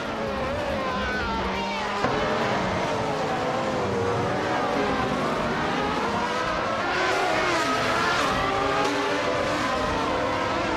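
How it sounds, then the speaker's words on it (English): Racing video game with cars including a Ferrari 412 T2: a dense, continuous roar of high-revving engines as cars accelerate and pass, with occasional skids and tire squeal throughout. "Crystal 33 is driving a Ferrari 412 T2 and is currently in 7th place"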